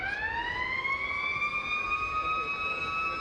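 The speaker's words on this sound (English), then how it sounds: "More pit lane klaxons sound." Pit lane klaxons sound at a race track during a car racing qualifying session, a steady, tonal siren-like wail holding for several seconds at moderate distance.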